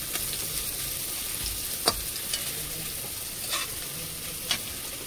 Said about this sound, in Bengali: এবার রসুন কটা তুলে দিচ্ছি, রসুনটা একটু ভেজে নেব।